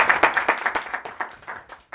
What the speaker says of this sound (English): Holton, a round of applause.